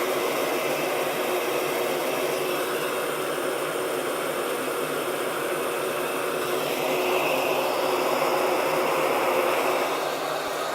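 A heat gun shrinking heat-shrink tubing over ESC wires blows a constant, even hiss of rushing air, steady and unbroken at close range throughout.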